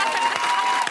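Live podcast audience clapping after a pun from the stage, a brief dense wash of applause, loud and steady, with a voice faintly underneath.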